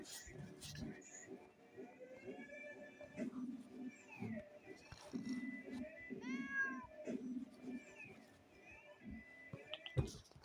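A cat meows repeatedly at close range, giving several short and drawn-out cries amid household rustling and faint background voices.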